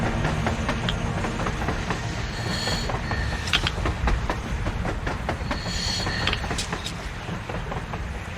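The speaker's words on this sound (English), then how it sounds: "A train! A damn train on the surface!" A train running on the surface in the video game Metro Exodus, with continuous loud rumbling, rattling wagons and sharp squeals of wheels on track throughout.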